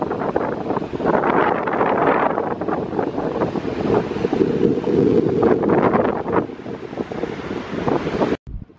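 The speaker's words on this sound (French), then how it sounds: "il y a trop de vent" Strong coastal wind at Haïtza buffets the microphone in loud, continuous gusts over a faint wash of sea, then cuts off abruptly near the end.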